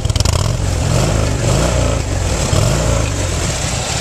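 A Harley-Davidson Fat Bob motorcycle engine rumbles at idle nearby, a deep, loping throb with slight swells in revs, loud and steady throughout.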